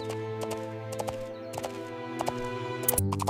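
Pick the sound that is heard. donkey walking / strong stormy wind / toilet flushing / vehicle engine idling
donkey walking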